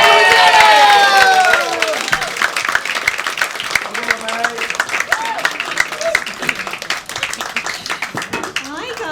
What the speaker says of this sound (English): there's going to be whooping, cheering and clapping throughout the gig